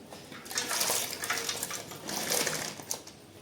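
Green chillies being swished up and down in a bowl of water for rinsing, giving soft, close splashing and sloshing in uneven bursts, fairly quiet and without talk.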